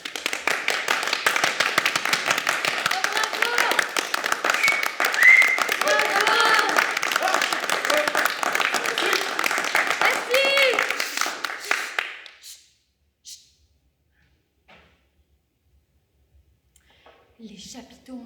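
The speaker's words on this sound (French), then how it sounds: "Ils applaudissent." An audience at a clown theatre performance bursts into sustained applause for about twelve seconds, then stops abruptly, leaving near silence broken by a few faint sounds.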